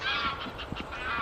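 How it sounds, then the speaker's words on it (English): Canada geese honk in a flock, overlapping calls rising and falling at a moderate distance over a steady outdoor background, with no talk. "Lots of Canada geese."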